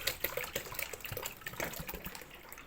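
Water pours from a jerrycan into a homemade fabric softener mixture, a faint, gurgling splash and trickle that runs unevenly throughout, quiet and close, with no talking.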